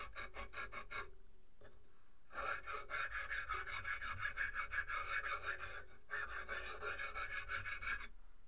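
Repeated rasping strokes of a tool being sharpened on the rough side of a cheap Chinese sharpening stone, short quick strokes at first, then longer sustained scraping passes after a brief pause, close and steady.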